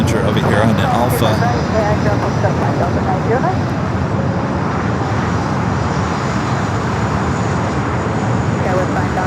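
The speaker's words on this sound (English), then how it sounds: "A little Challenger over here on the Alpha." A Bombardier Challenger business jet taxiing at LAX, a continuous engine whine and rumble held steady throughout, with faint radio chatter in the background.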